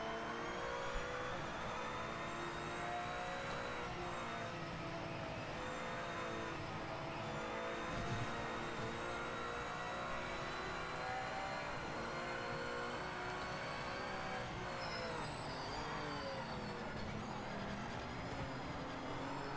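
A race car in the video game Project Motor Racing drones steadily throughout, its engine note holding and shifting slightly as it drives, with no talk over it.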